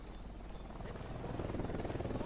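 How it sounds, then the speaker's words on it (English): A helicopter in Ghost Recon Wildlands flies nearby, its rotor a rhythmic low thumping that grows louder and more pronounced as it approaches. "Helicopter, get down."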